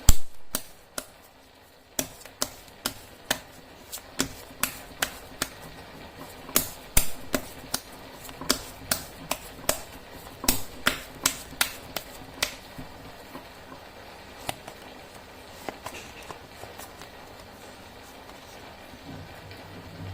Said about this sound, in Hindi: मैं कर लेती हूँ कार्ड की शफलिंग।